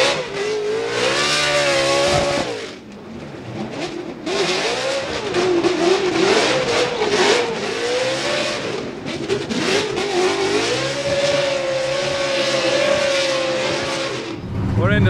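Loud, aggressive revving from a Ford Mustang RTR Spec 5 FD drift car at a Formula Drift event in Seattle, rising and falling pitch, bouncing off the limiter, close and continuous with brief dips between pulls.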